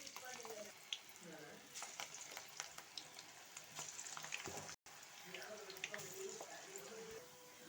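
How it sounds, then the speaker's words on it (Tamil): Potato pakoda batter sizzles and crackles in hot oil, a steady bubbling fry with scattered pops and small stirring clinks, broken by one brief gap midway. "இப்போ நம்ம எண்ணெயில் போட்டு பொரித்து எடுத்துக்கலாம்."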